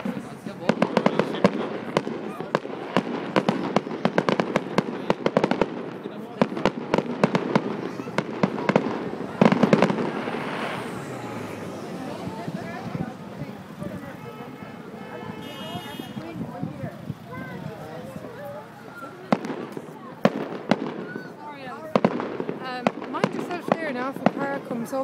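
Fireworks bursting in Dungarvan, a rapid barrage of sharp cracks and booms over about twenty-five seconds, fairly close and loud, with a crowd of people talking and calling out throughout.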